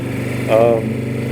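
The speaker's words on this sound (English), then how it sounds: "This bike just takes off." An se120r motorcycle engine drones steadily up close, then surges briefly in a short rising burst of revs before settling back to a constant hum.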